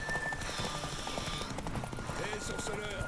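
Horse hooves galloping in a race in the video game The Witcher 3, a rapid steady clip-clop running throughout beneath someone talking loudly over game music.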